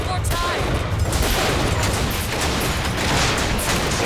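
Automated turrets in Bioshock Infinite on 1999 mode fire steadily, a dense, continuous barrage of gunfire that stays loud and close for the whole span with no gaps.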